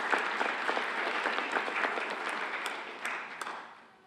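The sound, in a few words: round of applause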